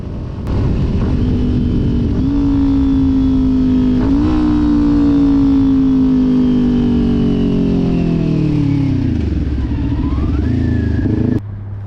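A Kawasaki Ninja 400 motorcycle runs at steady, loud engine drone, then rolls off the throttle and slows as it pulls into a parking lot. The pitch drops into a low idle before a brief blip near the end.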